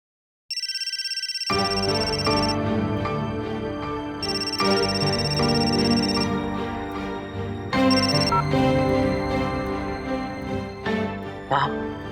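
A phone ringtone chimes in repeating bursts over background music, loud and close.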